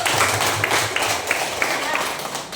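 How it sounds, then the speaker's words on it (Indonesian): Students applauding a classmate in a school classroom, a brief round of scattered hand clapping mixed with chatter and voices. "Oke, tepuk tangan buat Keisha dulu."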